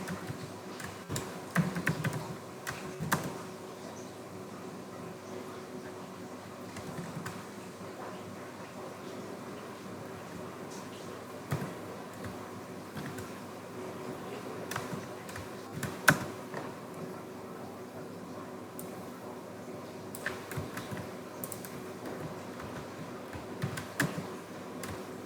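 Computer keyboard typing at a desk, a steady close patter of key clicks in uneven bursts with occasional louder strikes, continuing alone for a long stretch.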